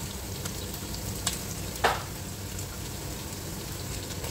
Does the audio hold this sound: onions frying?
yes